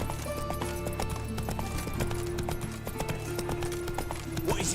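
Roach, the horse in The Witcher 3 video game, gallops with a steady clip-clop of hooves over a busy game soundscape and faint background music.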